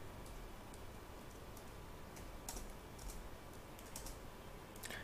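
Computer keyboard keys are pressed while working in Tally accounting software, giving faint, scattered clicks over a steady background hiss with no talking.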